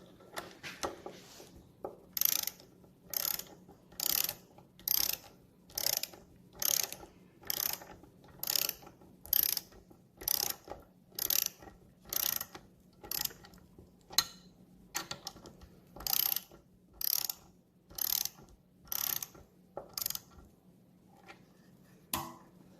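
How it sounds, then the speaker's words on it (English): A torque wrench tightening bolts on the bottom end of a 1971 Triumph Tiger 650cc engine during a rebuild, giving a long steady run of sharp ratcheting clicks in even bursts, close and clear with no talk. "Snug them first, and then come back and torque them."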